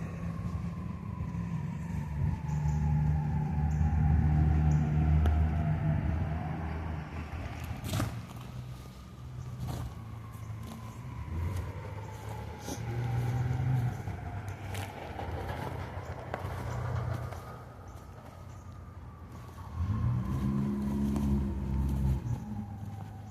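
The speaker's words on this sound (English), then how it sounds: "You got Rogerick out in traffic" Road traffic rumbles steadily as vehicles pass one after another, their engine tones sweeping up and down as each one goes by at moderate distance, with heavier passes near the start and end.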